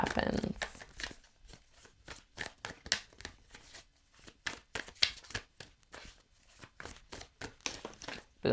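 Tarot cards are shuffled and handled in a quick, uneven series of crisp riffles and soft card slaps, close up and fairly quiet, with short pauses between bursts.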